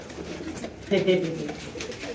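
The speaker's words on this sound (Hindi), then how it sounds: "लाल कबूतर है, लाखा कबूतर" A red Lakha pigeon coos in a short low burst in the middle, close by, with voices talking around it and faint background noise.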